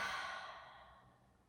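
Deep exhale during a mobility stretch for the lower back and shoulders, a single long breath heard close and alone, strongest at the start and slowly fading away.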